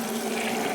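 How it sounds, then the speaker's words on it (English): A water sample drawn from about six feet down in a northern lake with a six-foot PVC pole, heard as a brief, steady watery wash of moderate loudness with no talk. "using a 6-foot pole made of PVC, he pulls a water sample from 6 feet under."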